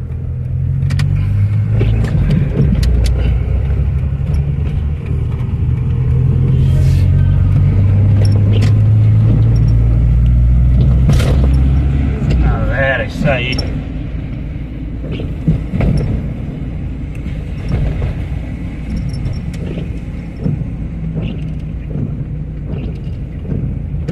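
Car driving through a neighbourhood toward a shop, a steady close engine rumble and road noise with a few clicks and knocks from the cabin, easing off and becoming uneven near the end as it slows.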